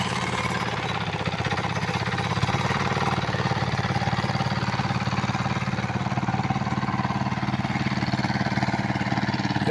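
A tilling machine with wheels fitted at the back works a muddy field, its engine running loud and steady with a rapid rattling pulse that continues unbroken, with no talk.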